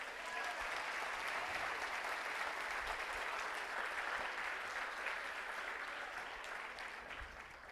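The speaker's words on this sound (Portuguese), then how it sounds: "Você pode aplaudir Jesus por isso?" A church congregation applauds during a sermon, dense sustained clapping from many people that carries on evenly and fades slightly toward the end.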